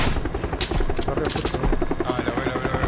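Helicopter rotor in the battle-royale shooter PUBG, a loud steady whirring drone with rhythmic blade chop running through the whole stretch, under brief excited gamer chatter.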